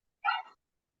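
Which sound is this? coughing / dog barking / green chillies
dog barking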